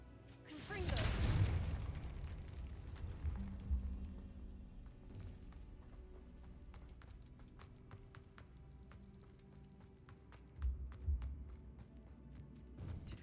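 A Confringo spell explosion in Hogwarts Legacy lands as a swooshing fiery burst, followed by crackling debris and a second smaller thump later, with music underneath.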